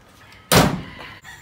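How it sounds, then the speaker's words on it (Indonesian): A door slams shut once with a loud, sharp thud, followed by a short fading rumble in a quiet room where a new studio is being built. "Tuh, tutup lo, pintu lah."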